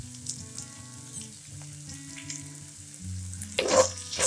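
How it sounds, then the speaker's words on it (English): Ginger garlic paste frying in a pan gives a low, soft sizzle beneath steady background music, then a louder burst of spitting and hissing near the end. "fry the ginger garlic paste nicely for 2 minutes"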